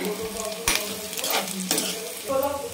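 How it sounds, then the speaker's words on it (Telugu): Beetroot pieces hit hot oil with garlic, curry leaves and red chilies, giving a close, steady sizzle with sharp bursts and stirring scrapes, no talking. "ఇవి వేగిన తర్వాత బీట్రూట్ ముక్కలు యాడ్ చేసుకోవాలి."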